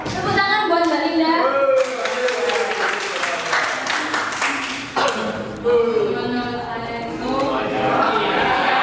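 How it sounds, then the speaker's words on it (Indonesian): An audience at an Indonesian professional training event applauds loudly and steadily for several seconds, a dense close wash of many hands clapping throughout. "Tepuk tangan buat Mbak Linda."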